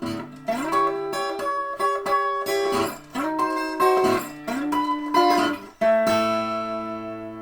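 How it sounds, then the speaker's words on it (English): Clean plucked acoustic blues guitar chords ring out one after another, each sustained note wavering slightly as all three strings are bent, with no talking. "just giving a little bend on all 3 strings. It sounds like this."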